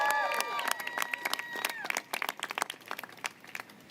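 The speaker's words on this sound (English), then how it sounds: "Applaud for Tish James." Political rally crowd applauding in support of Tish James: a few stray voices over scattered, uneven clapping that swells into a busier patter of claps toward the end, moderately loud and fairly close.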